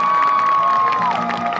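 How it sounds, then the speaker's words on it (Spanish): Festival audience at a Day of the Dead dance event in Chetumal, Mexico, cheering and shouting loudly in a dense crowd roar, with a sustained whistle-like tone running through it. "El aplauso, señores."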